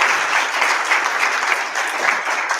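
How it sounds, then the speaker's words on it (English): A recording of applause plays back loudly through speakers, a thick, even wash of clapping with no voices over it. "did you all hear the applause there?"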